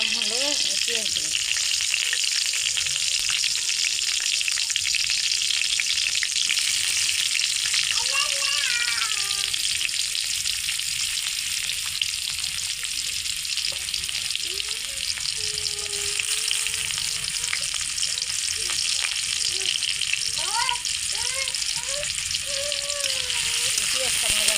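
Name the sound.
onions frying in hot oil in a pan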